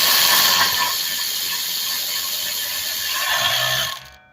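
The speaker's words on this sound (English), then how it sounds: "I'm showing it to you while I'm bolting." Rapid ratcheting wrench clicks while bolts are tightened on a 2017-2020 Hyundai Elantra rear wheel hub, a steady close mechanical rattle that continues for several seconds and then stops abruptly.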